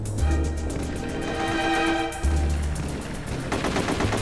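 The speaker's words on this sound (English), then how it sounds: "You can still hear all the gunfire." Rapid automatic gunfire bursts in The Getaway video game, loud repeated shots in sustained volleys with no talking.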